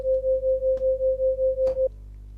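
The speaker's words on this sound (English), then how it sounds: "What we're going to do here is do some basic ring modulation." A sine tone from the FL Studio Sytrus synthesizer, amplitude-modulated by a very slow sine in ring-modulation fashion, pulses in an even rhythmic wobble about five times a second, then cuts off with a faint click.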